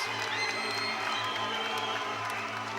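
Crowd at a 2009 professional boxing event in an arena, a low, continuous murmur and rumble of many voices with scattered calls, sounding steady and distant rather than cheering.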